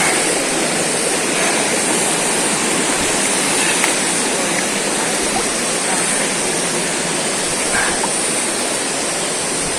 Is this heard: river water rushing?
yes